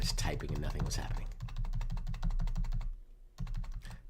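Rapid, close typing on a computer keyboard, with dense irregular key clicks in bursts, a short pause, then more keystrokes, with a soft voice at the start.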